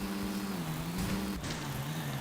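Car engine from the skateboarding video game Tony Hawk's Underground, a steady droning hum that rises and dips slightly with throttle, loud and continuous throughout with a brief scrape near the middle.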